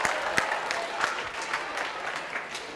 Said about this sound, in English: Give her a round of applause for being brave and sharing that story.